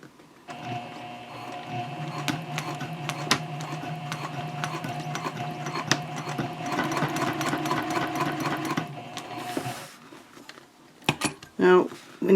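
A sewing machine stitches over handbag straps on a messenger bag, running in a steady mechanical whir with clicking, uneven bursts as it climbs the thick layers, then halts; a voice speaks briefly afterward.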